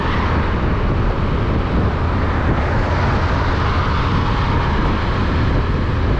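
A new 2023 Suzuki Avenis 125 scooter rides along in economy mode at around 50 km/h, giving a steady, loud, continuous engine and road drone with wind rush and no pauses.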